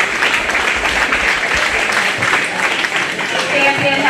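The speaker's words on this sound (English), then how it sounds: "let's go ahead and give both those young people a nice round of applause" An audience at a 4-H/FFA youth cattle show gives a steady round of clapping for young exhibitors, with an announcer's amplified voice speaking over the applause.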